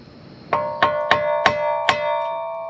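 A hammer strikes a car half shaft on a Chevy Traverse or GMC Acadia five times at a steady pace. Each sharp metallic hit rings on loudly up close, and no one speaks.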